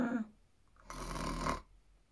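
Storyteller's voice imitating a sleeping condor's snore, a short voiced hum followed by one long raspy breathy snort, close and quiet.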